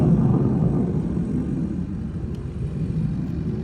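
Steady broadband engine roar of an airplane passing overhead a paddy field, loud and continuous with no talking.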